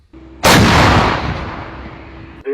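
One deafening blast from an AHS Krab self-propelled howitzer booms out, then rolls away in a long, fading rumble before a short clatter at the end.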